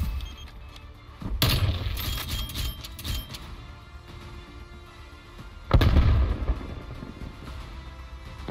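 A grenade blows up in the video game Call of Duty: Black Ops Cold War, sounding as two sharp, loud bursts a few seconds apart with debris-like crackle, over a busy game soundscape with no talk.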